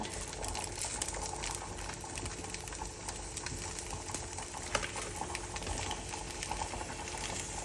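Salmon sizzles steadily in hot olive oil in a pan, a soft continuous hiss and crackle with no talking over it.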